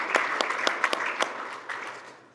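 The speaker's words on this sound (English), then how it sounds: "I want to give her a round of applause for her volunteer work." A small crowd at a chamber of commerce awards event applauds briefly, a burst of clapping that gradually thins and fades out.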